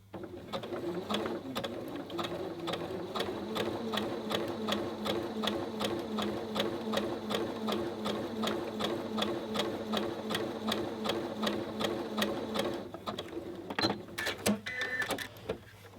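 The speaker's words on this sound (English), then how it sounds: "I'm going to watch my needle the whole time to make sure that I'm just touching the edge of the fabric as I sew down" Domestic sewing machine running a zig zag overlock stitch along a fabric edge: steady, fast, rhythmic mechanical clatter from start to finish, close and loud, with a slight change in the last couple of seconds.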